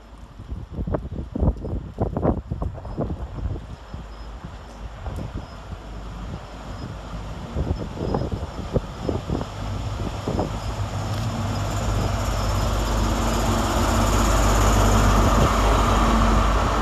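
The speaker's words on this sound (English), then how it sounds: "here comes our train in the form of 43175, top and tail with 43176" ScotRail HST 43175, running top and tail with 43176 on the Aberdeen to Glasgow Queen Street service, arrives at Montrose station: wind buffets the microphone first, then a low diesel rumble builds steadily and grows loud as the train draws near.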